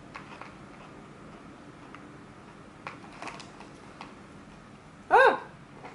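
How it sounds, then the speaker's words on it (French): A mouthful of cherry cola flavoured popping candy gives a few faint crackles, then one sharp, close fizzing crackle burst near the end. "ça pétille dans la bouche. Ça crépite."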